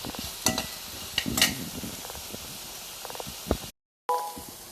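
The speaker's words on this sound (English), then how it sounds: "Just stir for 2-3 minutes." Onions frying in a pan while being stirred, with a steady sizzling hiss and a few sharp scrapes and clinks of the spoon against the pan, close and moderately loud, with a brief dropout near the end.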